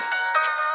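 A phone ringtone for an incoming call plays as a steady, bright electronic melody with a few rising notes, clear and sustained without any voices over it.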